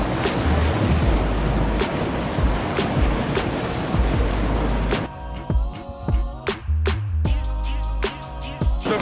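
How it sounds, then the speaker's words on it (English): Ocean waves wash and splash against rocks with a loud rushing surge and wind buffeting, dropping to quieter water sounds with sharp splashes and knocks in the second half. "get some shots of like the water splashing up on the rocks"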